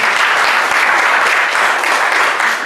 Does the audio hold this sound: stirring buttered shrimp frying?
no